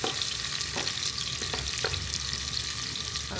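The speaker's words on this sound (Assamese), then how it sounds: "এতিয়া এইখিনি অলপ ৰঙচুৱা হোৱালৈকে ভাজিম।" Onions and ginger-garlic paste fry in hot oil in a pan, giving a steady dense sizzle throughout with occasional soft stirring scrapes, close and alone with no talk.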